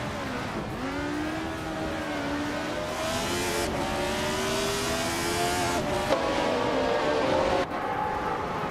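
Race cars at Brands Hatch in a racing video game, engines whining and climbing through gears in a steady, sustained drone, with pitch rising and dropping at each shift.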